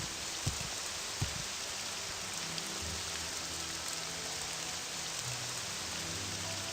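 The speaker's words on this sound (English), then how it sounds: "I can't think with the rain noise." Steady rain falls in the video game Morrowind, an even, moderately quiet hiss with a few sharper drop taps early on and no talking.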